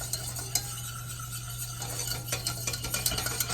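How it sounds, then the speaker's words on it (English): Chicken tossed with salt and pepper in a bowl, soft wet stirring and light clicks of a utensil against the side, close and quiet over a steady background hum. "We're going to give this a mix."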